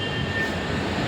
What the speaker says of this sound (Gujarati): તો ચલો ભાઈ આપણી ટ્રેન આવી ગઈ છે.